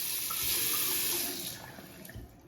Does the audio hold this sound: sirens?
no